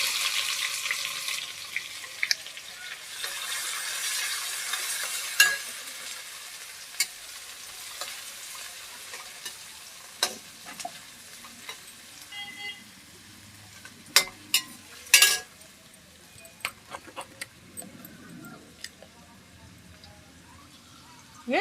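Onions fry and get stirred in a pan while making sarson ka saag, with a soft, continuous sizzle and scattered scraping clicks from the spoon, fairly quiet and close.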